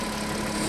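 Steady close-up idle of a Porsche Cayenne 3.2 V6 gasoline engine, an even, unbroken hum with no voices.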